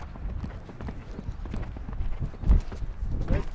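Horses trotting and walking around a riding arena during a young-horse coaching session, with steady hoof clip-clops close by, mixed in with a coach's voice giving instructions.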